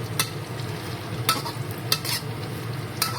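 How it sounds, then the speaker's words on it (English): Pork pieces frying in oil in a pan for sweet and sour pork, a steady close sizzle broken by a few sharp clinks of a utensil stirring against the pan. "we're trying to fry it up a little bit, warm it a little bit, so that this becomes ready for the masala"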